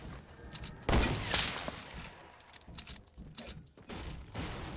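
Weapons are reloaded in Fortnite with a run of mechanical clicks, ratchets and metallic clacks, opening with a loud burst and followed by quieter repeated handling, with no talk.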